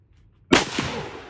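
A gun with a light two-stage trigger fires a single loud, sharp report close by after a brief quiet, the blast cracking and then rolling off into a short decaying echo.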